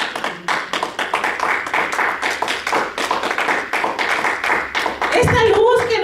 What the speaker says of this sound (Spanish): ¿Cuánto dan aplauso al Señor?